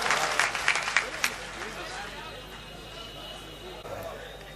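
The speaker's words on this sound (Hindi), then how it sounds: "जोरदार तालियों में इस्तकबाल फरमाएं" Crowd applause welcoming a guest, a police DYSP, onto the stage at a Malegaon mushaira, a dense wash of clapping that is loudest at the start and gradually thins and fades.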